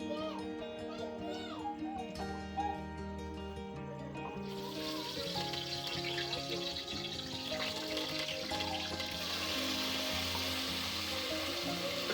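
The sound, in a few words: spices sizzling in hot tempering oil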